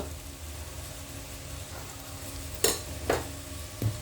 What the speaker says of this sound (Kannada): ಪುಳಿಯೋಗರೆ ಪುಡಿನ ಚೆನ್ನಾಗೆ ಸಣ್ಣ ಉರಿಲೆ ಸ್ವಲ್ಪ ಇದು ಎಣ್ಣೆ ಕಾದಿರುವಂಥ ಎಣ್ಣೆಲೆ ಹೀಗೆ ಫ್ರೈ ಮಾಡ್ಕೊಂಬಿಟ್ಟು